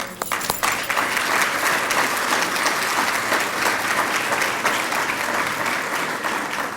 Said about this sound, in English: we all should applaud to this